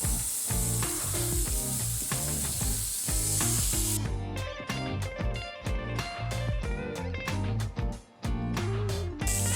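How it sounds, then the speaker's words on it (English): Angus burger meat sizzles steadily in a hot pan, a continuous bright frying hiss that carries on for the whole stretch beneath loud rhythmic background music. "We cook this Angus burger meat"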